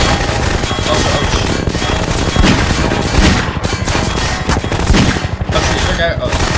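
Rapid, sustained automatic gunfire and fusillades aimed at a helicopter in the video game Half-Life 2, loud and dense throughout with a few louder bursts and booms, no clear speech.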